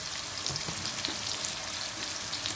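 Finely chopped onions fry in hot oil with a dense, steady close-up sizzle, faint stirring taps scattered through, and no voices.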